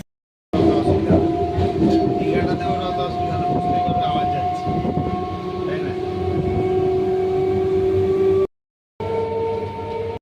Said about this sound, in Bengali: তো আমাদের ট্রেন এখন চলে এসেছে।